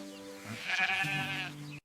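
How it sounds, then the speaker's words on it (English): A single sheep bleats once close by, a wavering, nasal cry that rises and then holds for over a second before cutting off abruptly. "This is a sheep, and its wool is very soft."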